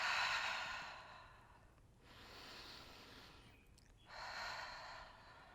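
A person breathes slowly during a yoga session, with two long airy exhales separated by a quieter inhale, soft and near in a calm room.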